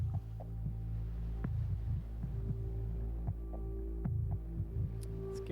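Rolling bass intro of a song, deep throbbing tones pulsing in an uneven rhythm, with occasional sharper hits over a sustained low drone.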